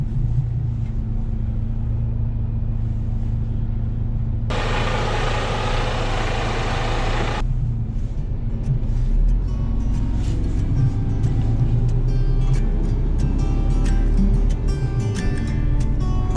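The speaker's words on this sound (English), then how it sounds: "I'm going to engage both axles and try to accelerate smoothly, so I don't have to put chains on the tires." A truck in snowy Norway pulls up a hill with both axles engaged, a steady low engine rumble and drone throughout, briefly joined by a loud hissing burst, then building slightly as it accelerates.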